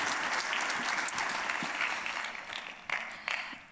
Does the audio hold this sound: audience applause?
yes